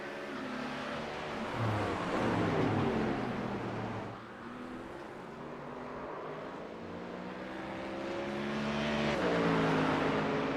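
Ferrari Challenge race car in the iRacing sim at Bathurst Mount Panorama, its engine droning steadily with rising and falling revs through gear changes, moderately loud and alone.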